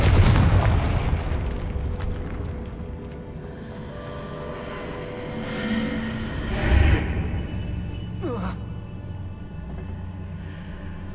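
A spell explosion in Hogwarts Legacy goes off with a loud booming burst that rolls into a long rumbling decay, followed later by a fainter whooshing rise, with no talking.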